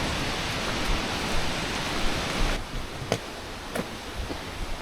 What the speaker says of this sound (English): rain started coming down